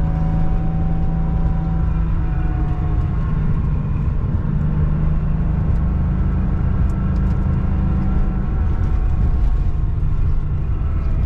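A vintage air-cooled Porsche 911 drives along, its engine a loud, steady droning hum with a continuous low rumble and no talking.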